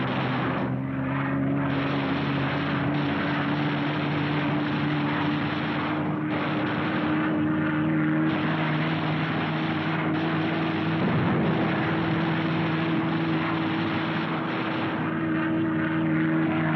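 B-29 bombers at a wartime airfield in 1945, a dense continuous drone of piston propeller engines with steady low hum and occasional heavier thumps and swells, loud and unbroken throughout, with no talk.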